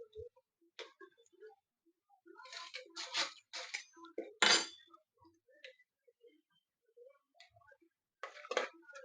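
Whole spices dropped into hot oil already sizzling with cumin, in a pan for Maharashtrian Savji pulao, giving scattered crackles and sharp pops over quiet gaps, with a few brief bursts near the middle.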